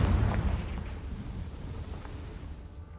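A Confringo fire spell bursts in Hogwarts Legacy: a heavy, rumbling blast that hits hard at the start, then rolls off into a long, loud low-end decay with no voices.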